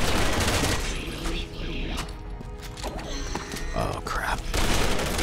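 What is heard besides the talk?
machine gun fire in the video game Resident Evil 6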